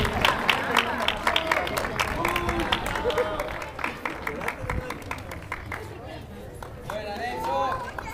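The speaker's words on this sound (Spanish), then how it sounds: "Un aplauso, por favor." Audience applause at an award ceremony honoring a racquet frontón player in La Paz, a dense wash of clapping with crowd murmur that stays strong throughout and swells again near the end.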